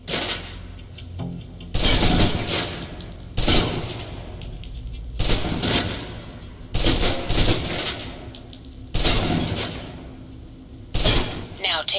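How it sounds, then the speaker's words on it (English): A submachine gun in the video game Alpha Protocol empties a full magazine in a series of loud, sharp bursts spaced every second or two, each crackling volley standing out against a low background. "Now let's empty the clip. Let you get a feel for the recoil."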